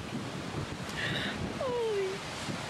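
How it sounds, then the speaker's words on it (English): Faint, steady wash of ocean waves in the distance, with a thin whistling tone drifting through briefly. "Look at those waves."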